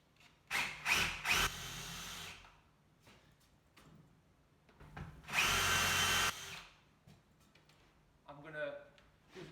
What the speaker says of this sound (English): I'm going to use a countersink bit